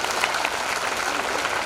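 A crowd at a Dhamma council gathering claps continuously in welcome of a guest, a dense, even burst of applause throughout.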